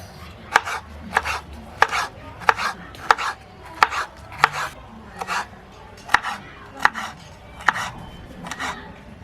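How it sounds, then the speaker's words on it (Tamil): Cabbage is chopped for vegetable fried rice, a knife striking a cutting board in a steady run of about a dozen sharp, close chops with soft scraping between them. "நெக்ஸ்ட் நாம வந்து கேபேஜ் கட் பண்ணிக்கலாம்"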